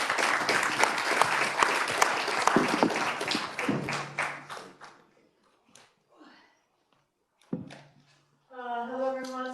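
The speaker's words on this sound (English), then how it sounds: "Please give our panel a round of applause" A round of applause for a panel at a Geneva health side event, steady clapping that fades out over about five seconds, followed by a few isolated sounds and a voice starting to speak.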